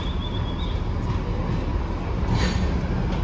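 Darjeeling toy train standing at the station, a steady low rumble of the idling rail cars with faint hiss and a brief high tone, close and continuous throughout.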